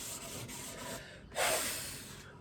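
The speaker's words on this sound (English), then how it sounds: "I'm just rolling those edges off with my sandpaper" Sandpaper rubbing along the edges of a rustic cigar box guitar made from spare parts, soft steady rasping strokes close by, with one louder, harsher stroke partway through and no talking.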